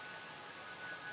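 Steady rain in a video game, a soft even wash of broadband patter with no distinct drops, moderately quiet and continuous throughout.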